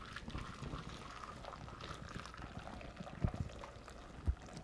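Soy milk being poured through a fine mesh strainer, a soft steady liquid trickle and splash running low and close throughout, with two brief thuds near the end.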